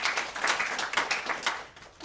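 Audience at a book launch event clapping: a brief burst of close, crisp hand claps in an uneven rhythm, fairly loud and fading slightly toward the end.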